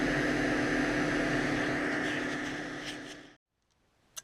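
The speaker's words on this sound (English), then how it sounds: "The joy of preheating. The noise, though, I really wish that could be quieter." An electric car's heater fan roars loudly while preheating the cabin, a steady jet-like whoosh that fades over a few seconds and then cuts out, leaving near silence and a small click.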